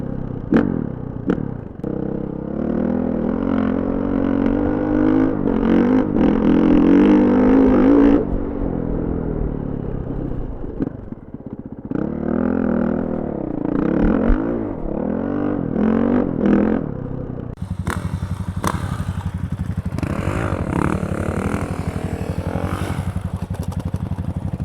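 A 2021 Honda CRF450RX dirt bike out riding, its loud, close engine revving and bogging in repeated bursts, with throttle blips, gear changes and clattering chassis noise, then a harsher rattling stretch near the end.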